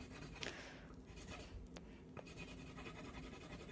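Pencil coloring on paper with side-to-side strokes, a soft continuous scratchy rubbing that stays steady and close throughout, with no talking.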